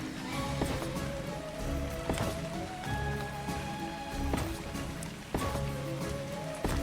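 Rain in the video game Ark, a steady close hiss of drops falling on surfaces, broken up by a few thuds and clicks of in-game building.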